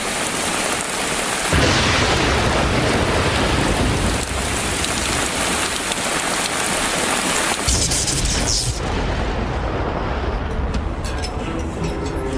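Steady, heavy rain pours down across the whole stretch, a dense continuous hiss that briefly thins and shifts near the end.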